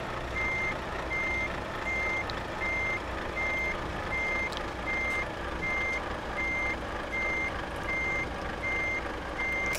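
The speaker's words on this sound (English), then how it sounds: "I'm getting a crash course on controlling a trailer while backing up." A truck backing up with a trailer in a casual trucking video game, its reversing alarm beeping in a steady regular rhythm over a low engine rumble, moderately loud and without talk.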